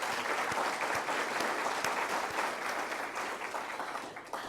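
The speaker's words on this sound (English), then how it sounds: "Let's give them one more round of applause." A crowd at a Diwali celebration applauds a dance group with dense, steady clapping that carries on evenly, then begins to taper off toward the end.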